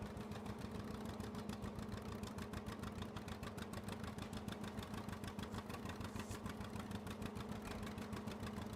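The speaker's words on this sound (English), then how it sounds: "The tractor sounds nice." A vintage 1959 tractor engine runs in Farming Simulator 22, a steady, rapidly chugging mid-pitched idle that holds even and fairly loud throughout.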